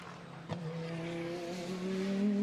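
Mercedes GT2 race car locking up its brakes into turn 1 during qualifying at Misano, a sharp transient followed by a steady engine drone with rising tonal whine, close and loud.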